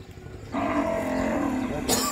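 A six-month-old Punganur miniature cow gives one drawn-out, fairly close moo that starts after a quiet moment and holds for over a second, followed by a brief noisy burst.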